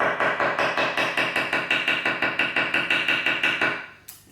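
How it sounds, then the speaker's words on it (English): A knife chops celery on a cutting board in a fast, even rhythm of about twenty crisp, close knocks, then stops near the end. "you just need to move your fingers back with your thumb at the base of the piece of celery, and slowly as you chop"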